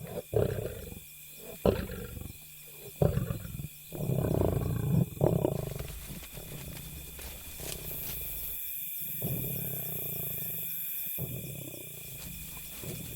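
A wild lion roars in the open bush, heavy low growls and grunts rising and falling over several seconds, loud and close, followed by a steadier rumbling stretch with background noise.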